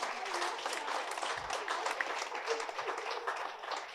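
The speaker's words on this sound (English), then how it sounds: "Can you give me a huge round of applause," Sustained audience applause at a conference panel, dense steady clapping from a crowd filling the whole stretch, loud and continuous without letting up.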